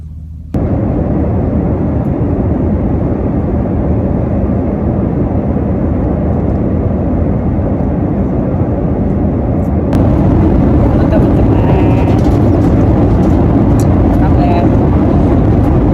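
Airplane cabin noise: a loud, steady low roar of engines and airflow fills the cabin throughout, with a small shift partway through, and no clear voices.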